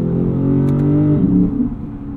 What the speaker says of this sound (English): When you put the transmission into manual mode, you get almost immediate downshifts